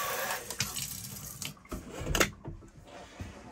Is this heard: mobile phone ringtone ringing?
no